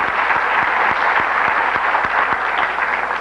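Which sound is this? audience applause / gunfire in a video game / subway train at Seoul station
audience applause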